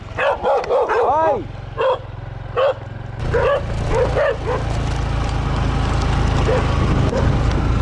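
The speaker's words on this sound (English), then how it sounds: "And then I almost got mauled by dogs at a cool temple." Several dogs barking and yipping at a temple, a burst of sharp barks near at the start and more scattered barks after, over a steady low engine-like rumble, with a person's voice in between.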